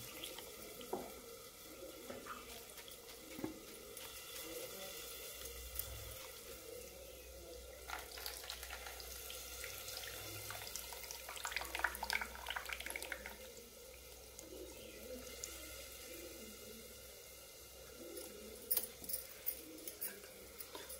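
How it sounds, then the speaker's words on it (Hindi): Water runs and splashes as flattened rice (poha) is rinsed in a home kitchen, a steady moderate wash with small splashes and drips throughout, no talking. "कुछ इस तरीके से हल्का सा भिगो के मतलब धुल के निकाल लेना है"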